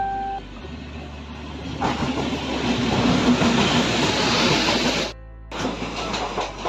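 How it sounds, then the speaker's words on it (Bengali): A train pulls into a station, rumbling up loud and close, a steady broadband roar of rolling wagons that cuts out briefly near the end, then resumes. "এই ট্রেন চলে এসেছে"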